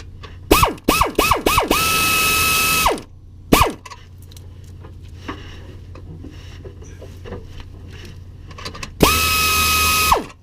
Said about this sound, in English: Tighten up this nut here, and we'll be done.